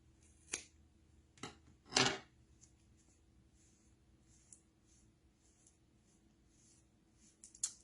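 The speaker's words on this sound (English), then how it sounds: "I'm going to go in and cut all my loops" Scissors snip through yarn loops on a tassel maker, three distinct close cuts in the first two seconds followed by quieter, scattered snips and handling noises.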